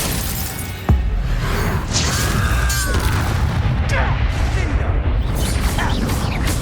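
Hogwarts Legacy's Glacius ice spell, a sharp crack and shattering burst followed by crackling, whooshing magical noise sustained through the rest of the moment, with faint voices beneath.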